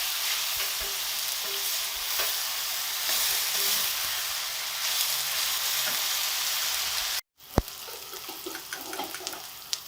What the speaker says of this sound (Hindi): बस प्याज फ्राई हो चुके हैं, हल्का सा मिक्स करके निकाल लें।